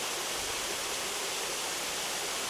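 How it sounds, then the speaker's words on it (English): Sitting Bull Falls, a waterfall reached down a side road of a dry desert byway, pours in a steady, dense broadband rush with no other sounds. "But the real surprise in this relatively dry drive is the waterfall."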